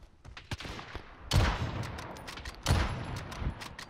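Gunfire in the Warzone video game, a burst of sharp shots, then two loud heavy rifle blasts with rolling echo and a few scattered single shots, no talk.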